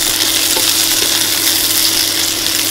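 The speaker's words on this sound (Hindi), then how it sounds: "2 मिनट के लिए हमें हाई फ्लेम पे सब्जियों को कुक करना है" Vegetables for restaurant-style dry chilli chicken stir-fry over a high flame, producing a loud, dense, unbroken hiss and sizzle close up, with faint tossing scrapes beneath.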